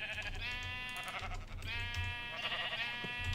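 Sheep in the Minecraft modpack FTB Revelations give two drawn-out, wavering bleats one after the other, clear and fairly loud over faint background noise.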